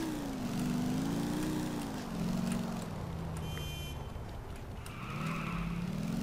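Car in the video game Grand Theft Auto IV driving along with a steady, rising and falling engine drone, loud and close, with brief higher whines partway through and no talking.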